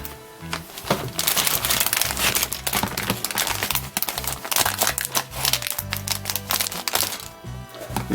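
Thick plastic bags holding white molded parts of an AMT 1:25 scale Stingaree model car kit being handled, loud crinkling and crackling in dense bursts, close up, with no talking.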